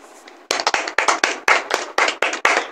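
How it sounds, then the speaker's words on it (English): Hands clapping in rhythmic bursts at a church sermon, loud and close, about a dozen sharp claps in uneven groups with no talk over them. "Clap for your dad."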